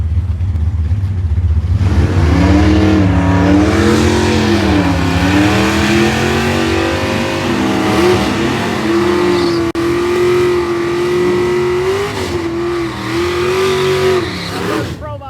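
Drag racing cars roar down the strip during an NMCA test session at Summit Motorsports Park, with loud sustained engine revving whose pitch climbs and shifts through gears.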